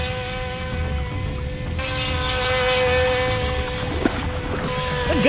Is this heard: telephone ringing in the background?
no